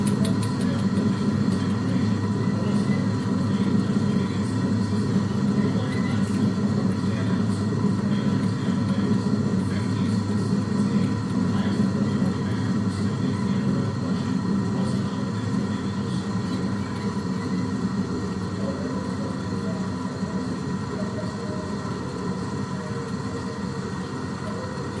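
Beechcraft Baron C55 in a custom-built flight simulator rolling down the runway after touchdown, a steady loud engine and rolling drone that eases slightly over time, without talk.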